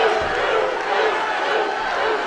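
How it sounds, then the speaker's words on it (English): Arena crowd at the Androscoggin Bank Coliseum in Lewiston, Maine, chanting a fighter's name at a lightweight title rematch; a dense, steady roar of many voices fills the space without letup. "Chants of Bruce permeating the crowd here at the Androscoggin Bank Coliseum"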